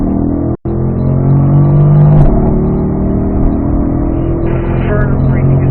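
A car on a race track road course pulls hard after a shift into fourth gear, its engine droning loud and steady with a brief cut during the shift. An instructor speaks over the engine noise throughout.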